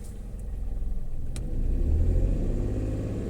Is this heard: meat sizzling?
no